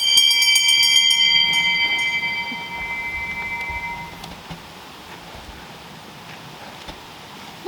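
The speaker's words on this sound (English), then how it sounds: "Ring the alarm bell!" In a youth theatre stage production of Macbeth, an alarm bell rings with a bright metallic tone that decays over several seconds. Soft stage ambience continues afterward.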